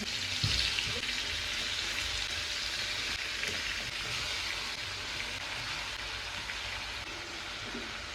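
Fish frying in hot oil in a wok, with dried chilli, ginger and garlic in the pan: a steady, dense sizzle holding at an even level throughout, close by, with no voices.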